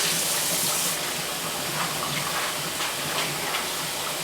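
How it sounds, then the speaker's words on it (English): Water pours steadily from a bowl of celery in a continuous hissing, splashing stream, close and alone, with no talk. "You're going to pour that water off."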